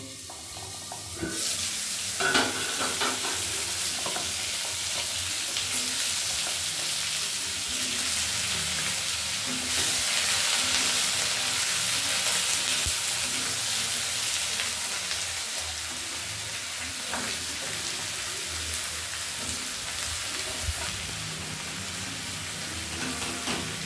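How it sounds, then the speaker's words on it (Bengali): Chopped bottle gourd frying in hot oil with a radhuni seed tempering, a loud, dense hiss and crackle that holds steady for the whole stretch, alone without talk. "এবার লাউগুলো তেলের মধ্যে দিয়ে দেবো।"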